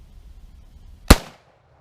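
A single sharp rifle shot from a CETME C308 PTR 19 G3-style clone with a muzzle brake fired at a range, loud and close, with a brief decaying outdoor echo after quiet ambience.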